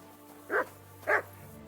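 A dog in the medieval video game Kingdom Come: Deliverance 2 gives two short, clear barks about half a second apart over a steady low hum.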